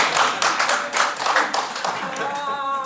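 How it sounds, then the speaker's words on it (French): An audience at an improvised comedy battle final in Paris claps together, giving loud, rhythmic bursts of applause. A voice cuts in near the end as the clapping thins. "j'aimerais avoir vos applaudissements pour savoir si cet homme est coupable"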